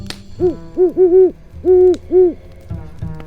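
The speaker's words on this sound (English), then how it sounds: "the sound you think of when someone says owl" An owl hoots close by in a slow series of about five low, round hoots, some paired, with quiet gaps between them.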